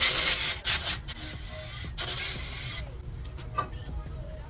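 A 19mm socket works lug nuts off the wheel of a 1995-97 Mercury Grand Marquis, giving a few harsh grinding, ratcheting bursts up close that fade to quieter scraping and light clicks.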